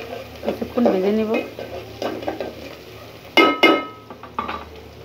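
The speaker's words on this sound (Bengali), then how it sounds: "এখানে তেল, কাঁচামরিচ, পেঁয়াজ, চিংড়ি মাছ দিয়ে দিচ্ছি। এখানে কিছুক্ষণ ভেজে নেব।" Shrimp with onion and green chili frying in oil for a bottle gourd dish, a soft sizzle beneath repeated scraping and stirring of a spatula against the pan, with a few brief metallic clinks.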